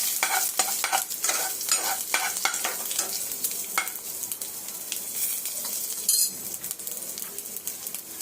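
A utensil stirs cumin seeds in a hot oiled frying pan, with a continuous crackling sizzle and repeated scraping strokes close up, and a sharp metallic clink near the end.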